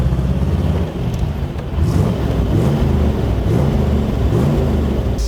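A 60-year-old V8 muscle car revved in neutral, its exhaust giving a deep burbling roar with repeated throttle blips over a steady idle, loud and close with no talk.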